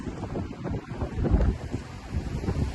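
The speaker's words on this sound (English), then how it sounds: "As you can hear, the wind is kicking" Strong wind gusting outdoors at a house under renovation, a loud buffeting roar with heavy rumbling on the microphone that surges and eases throughout.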